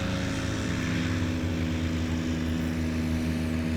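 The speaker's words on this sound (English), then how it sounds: "Full throttle for Rick Boardman, getting that tail nice and high." At a Swamp STOL competition, a STOL airplane's propeller engine runs at full throttle for takeoff, a loud, steady, nearby drone that holds without a break.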